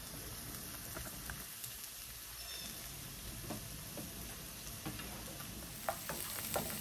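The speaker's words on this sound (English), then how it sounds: "So let's saute that up." Food sautéing in a pan, a soft steady sizzle with scattered small crackles and stirring taps, faint and close, with no talking.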